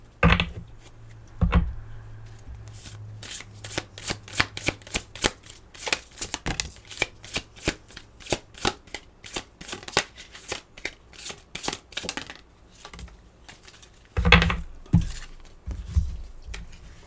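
Tarot cards shuffled by hand in a rapid run of crisp riffling snaps and flicks, close and clear, with a few heavier taps from the deck at the start and end, and no talking.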